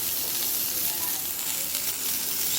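Chopped tomato hits onions already frying in a pan, giving a steady, dense sizzle that holds evenly throughout, close and moderately loud, with no talking.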